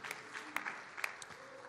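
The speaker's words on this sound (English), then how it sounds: "Can we give the Lord another good clap of praise tonight?" Scattered clapping from a church congregation during an evening worship service, faint and sparse with a few sharper claps standing out against a quiet room.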